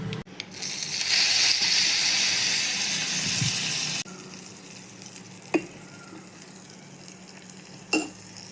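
Hot oil tempering with mustard seeds, red chillies, asafoetida and curry leaves is poured onto a papad and curd side dish. It gives a loud close sizzle for about four seconds, then drops to a faint hiss with a couple of soft knocks.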